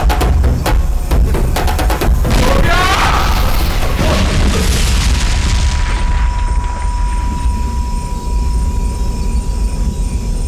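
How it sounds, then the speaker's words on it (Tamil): A sudden, loud explosion on a road at night opens with a heavy boom and cracking bursts, then gives way to a long rumbling roar that fades into a sustained noisy wash with a faint steady tone. "திடீர்னு வெடிச்சிருச்சு"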